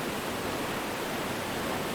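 Niagara Falls pours in a dense, even roar of falling water that holds steady and full throughout, with no other sounds breaking through.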